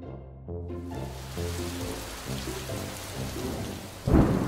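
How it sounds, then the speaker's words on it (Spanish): Heavy rain pours steadily with low rumbling thunder, and a sharp, loud thunderclap bursts in near the end. "La lluvia está aún más fuerte."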